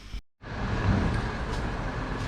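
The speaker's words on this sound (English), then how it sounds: "Got a bit of a diesel truck here." Diesel truck rumbling past nearby on a street, a continuous broad engine and road roar lasting a couple of seconds after a brief dropout, fairly close and steady with no talk over it.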